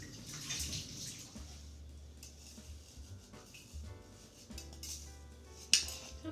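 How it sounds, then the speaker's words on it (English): Warm tap water runs over a frozen container in a kitchen sink, a steady splashing stream with brief clinks and knocks and one sharp clatter near the end. "So we're going to run this under warm water so I can get it out of that container."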